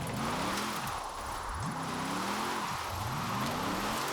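A GMC truck set up for drifting with all-wheel drive in Forza Horizon 4 revs hard, its engine note climbing in repeated rising sweeps between gear changes, loud and steady with no talking.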